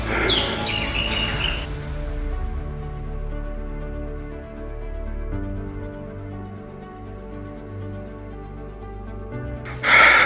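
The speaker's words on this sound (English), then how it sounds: "it's a nice birds sound all over the place" Songbirds chirp and call through a hillside forest at daybreak on a steep hiking trail, a steady layered chorus of bright tweets heard from varying distances, with a louder burst of calls close by at the end.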